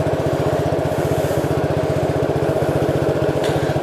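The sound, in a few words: 1969 Gravely 430 tractor engine running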